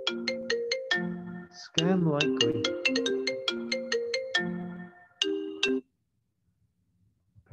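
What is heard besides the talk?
phone ringtone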